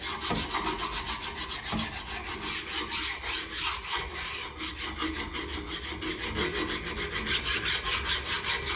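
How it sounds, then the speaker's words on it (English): Paint is scraped off Massey Ferguson 35 tractor parts with a steady, rhythmic rasping scrape that continues close up and alone throughout. "Scratches all the paint off."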